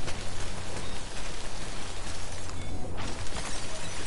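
Steady rain in the video game Death Stranding, growing heavier: a dense, continuous hiss of drops pattering on surfaces, fairly loud and unbroken, with a low rumbling bed beneath and no talk.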